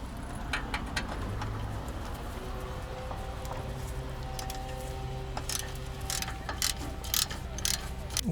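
Taking out a 10mm bolt on the rear suspension of a 2013-2020 Lincoln MKZ or Ford Fusion makes quick metallic ratchet clicks in bursts, near and clear, with a low background hum.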